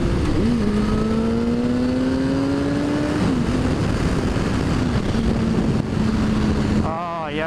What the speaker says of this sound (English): love the sound of this bike